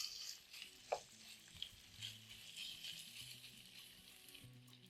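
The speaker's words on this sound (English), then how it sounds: "Once the butter is ready, I'm going to add in my beef, which is bone in." Bone-in beef searing in melted butter in a pan, a faint steady sizzle with a few soft stirring knocks and clinks.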